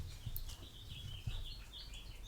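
Outdoor birdsong fills the moment with overlapping high chirps and tweets, continuous and fairly near, while no one speaks.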